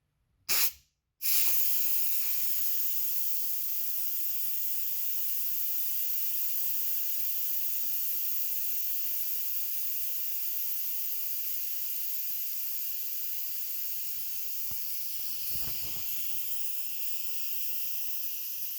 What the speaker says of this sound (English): I will be releasing the pressure from the pressure cooker